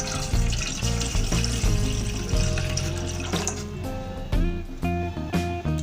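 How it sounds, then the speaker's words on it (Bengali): Water is poured from a cup into a deep saucepan sitting on a gas stove, a close, splashing, gurgling stream with brief breaks between pours. "এবার এর মধ্যে আমি 2 কাপ মতো জল ঢেলে দিচ্ছি।"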